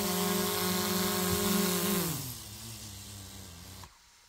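At a campsite, drone propellers spun up to serve as a fan give a loud, close, buzzing whine that winds down in pitch and then cuts off abruptly, leaving quiet.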